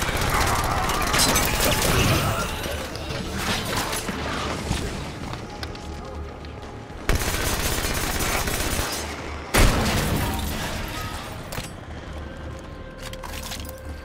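Sustained gunfire in the Halo 5 mission Evacuation, dense and loud throughout, with sharp breaks and fresh bursts near the middle and a few heavy single impacts.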